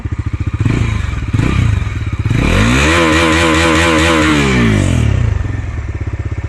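A Bajaj Dominar 400 motorcycle with a battery problem idles roughly, then revs up in a long rising and falling surge before settling back to a loud, close idle.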